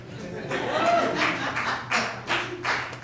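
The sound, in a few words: few audience members applauding comedian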